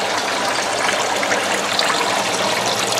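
Water pours steadily into a hydroponic Dutch bucket, a continuous broadband rushing and splashing that holds at an even, fairly loud level from start to finish, with no talk over it.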